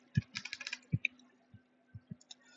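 Typing on a computer keyboard: a quick run of close key clicks, then a few scattered, separate taps over a faint steady hum, with no talking.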